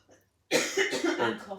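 A single harsh cough close to the microphone, following a brief quiet moment.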